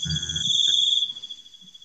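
Crickets chirp in a steady, high-pitched trill that holds for about a second beneath brief muffled room noise, then fades to a fainter continuing chirr.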